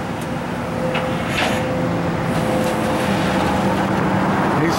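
A tow truck loads a broken-down car on Route 80, its steady engine drone and a faint whine running throughout, with occasional clunks and no talk.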